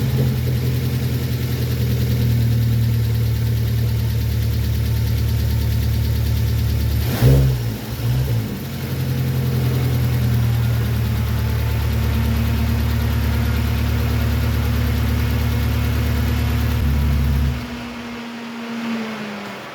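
BMW 1 Series N45 four-cylinder engine after cam cover, coil pack and wiring reassembly: a steady idle with a faint tappety edge, a short rev blip midway, then settling back to a smooth hum before shutting off near the end, close and without voices.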